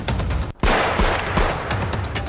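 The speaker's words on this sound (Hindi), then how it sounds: "बुलेट इस तरह की बाइक्स के साइलेंसर में से पटाखों वाली आवाज निकालकर लोगों को डराते हैं।" Loud, rapid bangs like firecrackers from a Bullet motorcycle's silencer being made to backfire on purpose, a dense run of cracks with a brief gap near the middle and no speech.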